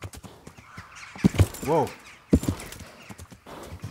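A horse in the video game Kingdom Come: Deliverance clops along with hoof thuds and gives a short whinny midway, moderately close, while someone talks over it.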